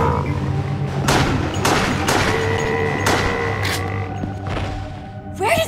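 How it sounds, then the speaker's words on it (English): Gunfire in the survival-horror game Resident Evil: The Darkside Chronicles, a series of loud booming shots at irregular intervals over a dense game soundtrack, with no voices. "Gunshot! Back there!"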